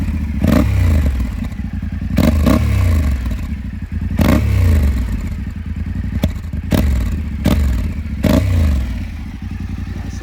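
A warm Yamaha Ténéré 700 motorcycle engine revs repeatedly, with about six sharp throttle blips rising and falling over a rumbling idle, loud and nearby.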